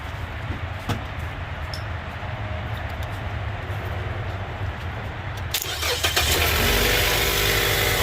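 A car engine cranks and fires after its weak battery is hooked up red to red and black to black, then settles into a loud, steady idle close by, following several seconds of low background hum.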